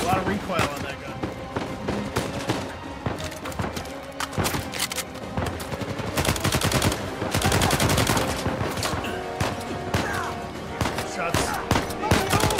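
Gunfire in Uncharted 4: A Thief's End rattles in rapid bursts of close, loud shots, heaviest in the middle stretch, layered with game sounds and people talking throughout.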